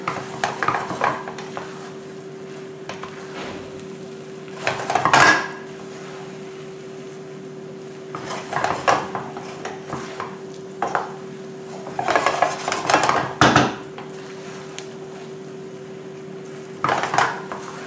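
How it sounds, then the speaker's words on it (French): Fried rice mixed with two sauces is stirred in a pan, giving scraping bursts of utensil against metal at irregular intervals over a steady low hum, with no talking. "Je mélange bien pour faire incorporer les deux sauces à l'ensemble."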